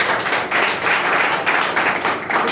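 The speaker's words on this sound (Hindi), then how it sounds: "एक बार अपने लिए जोरदार तालियां हो जाए।" An audience at a business seminar gives a dense, loud round of applause that continues steadily throughout.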